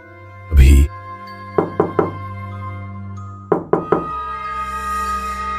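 Knocks on a door in a tense horror scene: a heavy thud, then two quick bursts of three raps each, fairly close, over a low sustained drone with no talking.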